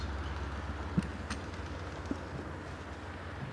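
Pigeons coo softly outdoors, a few faint low calls over a steady background hum, distant and sparse with no voices.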